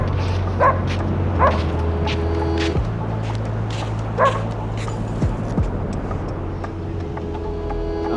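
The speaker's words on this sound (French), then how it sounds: "il aboie sur tous les pêcheurs" Dog named Argos barking at fishermen by the water, a handful of sharp, scattered barks and yips over a steady droning engine hum, fairly close.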